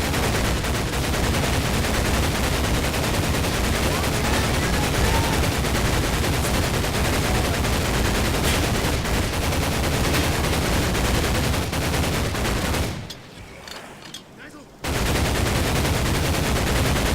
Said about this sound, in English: if you are fast and get on this gun, just go crazy and shoot.